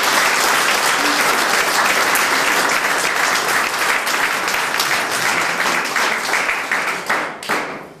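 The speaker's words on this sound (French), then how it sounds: "Vous pouvez aussi applaudir." Loud, full audience applause at a ceremony honouring a volunteer who trains assistance dogs for disabled people, dense and steady for several seconds before thinning and tapering into a few last claps.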